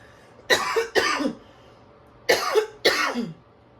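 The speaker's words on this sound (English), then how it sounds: "I'm going to cough." Four harsh coughs, two quick pairs separated by a short pause, close and loud.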